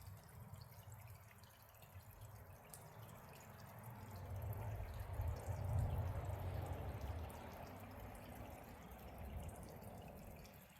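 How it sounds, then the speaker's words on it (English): Melting ice drips water faintly and softly in a quiet room, the gentle liquid patter swelling slightly midway over a low background hush, with no one speaking. "I'm just going to listen to the water dripping."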